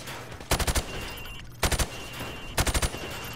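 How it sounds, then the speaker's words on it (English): Automatic gunfire rattles at pop-up targets through wood on a Call of Duty: Modern Warfare firing range, three sharp, loud bursts of about four rapid shots each, separated by short pauses. "I want you to shoot the targets through the wood."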